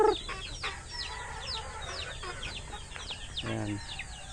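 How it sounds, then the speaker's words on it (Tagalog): Chickens cluck and chirp in short bursts from a pen beside ducks, with a few deeper throaty calls near the end, against steady farmyard background noise. "Dito yung kabilang kulungan yung mga manok."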